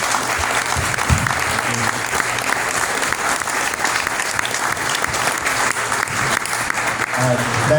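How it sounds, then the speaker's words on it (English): An audience applauds a panel steadily and loudly at a bitcoin mining talk, a dense wash of clapping that stays constant throughout with no pauses. "Let's give the panel a round of applause."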